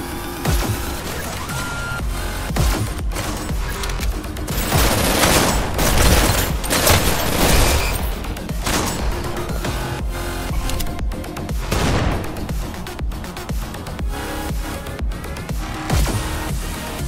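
Shotgun blasts and heavy gunfire in a video game, dense and loud, with repeated booming shots layered over a constant wash of battle noise and no talking.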